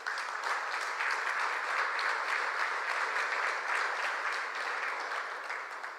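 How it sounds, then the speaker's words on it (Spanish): Steady applause from a church congregation during a sermon, a dense even wash of many hands clapping at moderate distance, sustained for several seconds without talk. "Dale un aplauso al Señor"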